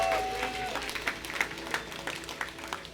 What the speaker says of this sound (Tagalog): isa pang malakas na palakpak sa Diyos